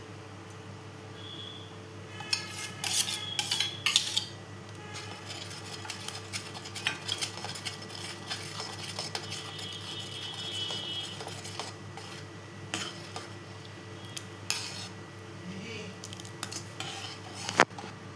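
A spoon scrapes and clinks against a pan while mango kheer is stirred with the gas turned off, the light irregular knocks coming in scattered clusters over a steady low background hum.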